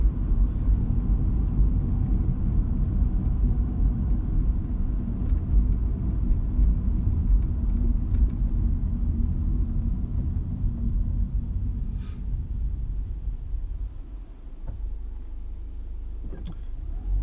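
A car rumbles steadily from inside the cabin while driving on a slow delivery day, a loud continuous low engine and road drone that eases slightly near the end, with faint clicks and no talking.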